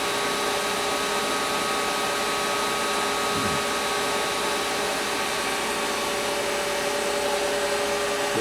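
A Dadson DS1342-KM CNC knee-type gun drill runs during a drilling feed, giving a steady, even machine whir with faint tonal hums that hold unchanged throughout.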